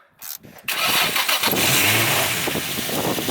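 A Nissan 350Z fitted with a new AEM intake revs up, with a few clicks before the engine rises into a loud, sustained rasp that stays strong to the end.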